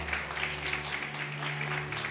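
A church congregation applauding to praise God, a steady wash of many hands clapping at moderate distance over a low sustained organ or keyboard drone.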